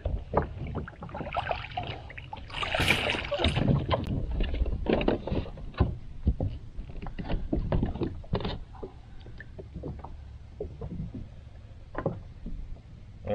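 Someone climbs back into an Old Town Sportsman PDL kayak on the water, with a dense run of close knocks, thumps and sloshing against the hull, hollow bumps scattered throughout.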